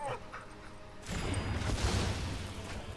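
Dog bark from a flying dog card in the video game MTG Arena: a game sound effect with a sharp bark-like burst midway, set over steady background game noise and music.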